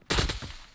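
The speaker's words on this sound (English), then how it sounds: "He shot me while driving!" AK rifle fire in a survival shooter game at a decaying compound: a short, loud burst of rapid shots that rings out and decays quickly, with no talk.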